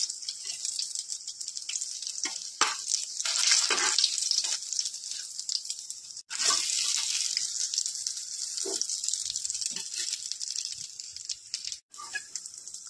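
Malabar spinach and radish leaf pakoras in batter sizzle and crackle in hot frying oil, a bright continuous hiss with scattered pops, broken by brief clatters as pieces are lifted out.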